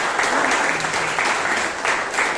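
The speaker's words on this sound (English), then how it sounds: "The secretary also deserves a big round of applause." Toastmasters meeting audience in Bangalore applauds the secretary, brisk, even clapping from a roomful of people that stays loud and close for the whole stretch.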